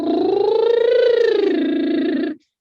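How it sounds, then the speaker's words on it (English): A singer's lip trill made with no vowel shape, a steady voiced buzz with rapid flutter that holds for about two and a half seconds, rising slightly in pitch mid-way before cutting off, close and alone. "So if I bubble without thinking about any vowel, it would sound like this"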